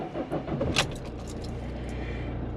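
Fiat Ducato 2.3 Multijet motorhome engine starting: keys jangle and a brief starter crank near the mic give way to a steady low idle rumble, with no talk.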